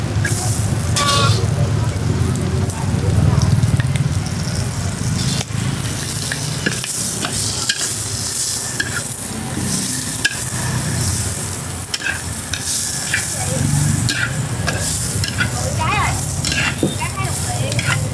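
Steady sizzling of shrimp frying in a pan, loud and close, with people talking over it throughout.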